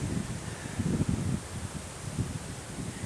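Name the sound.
strong wind blowing outdoors in Christchurch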